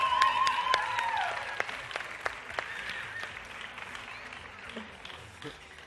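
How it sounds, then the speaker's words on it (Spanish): Scattered audience clapping at a vegan cooking demonstration, a handful of distinct claps that thin out and fade over several seconds, with a voice briefly audible at the start. "Un aplauso."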